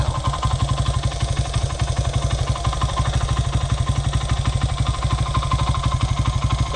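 A motorcycle engine idling with the choke on, running nearby with a steady, fast, even putter that holds throughout.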